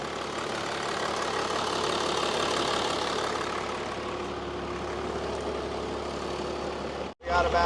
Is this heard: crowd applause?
no